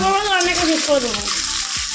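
Small fish fry in a pan with a loud, close crackling sizzle, while a person speaks over the frying.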